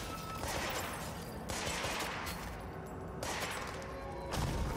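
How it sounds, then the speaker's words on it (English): Bursts of gunfire in the video game Control, used to blast walls apart, come as sustained crackling volleys with crashing debris, dense and continuous but fairly quiet overall. "Oh, I can just shoot walls down."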